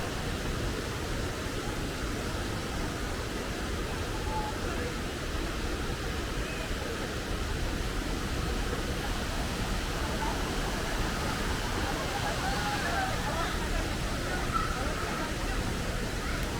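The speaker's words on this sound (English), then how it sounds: "So we get so close to the waterfall now and listen to the water cascading down with roaring power." Constant broadband roar of a waterfall at Kenyir Lake, a dense, even wash of rushing water that holds steady throughout, close and powerful.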